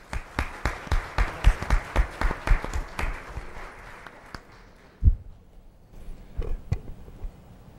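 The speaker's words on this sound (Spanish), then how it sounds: "les pido un aplauso" Audience applause at a CADE 2011 education conference panel in a hall, a steady burst of clapping that fades after about four seconds, followed by a few scattered claps and a loud bump.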